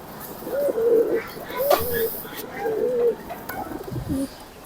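Indian Jaldar pigeons coo softly in a loft, a repeated series of low, rolling calls, fairly close, with some background rustle and a voice briefly audible.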